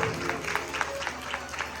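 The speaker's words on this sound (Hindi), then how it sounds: "ताली बजा लो धीरे से।" Devotional gathering at a Bhagavat Katha applauding gently from their seats, a brief soft patter of clapping over a steady hum of the hall.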